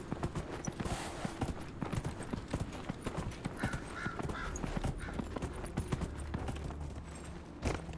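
Horse hooves clip-clop steadily in the video game Dragon Age: Inquisition, a quick, even rhythm of light hoof strikes carrying on throughout, with faint game ambience underneath.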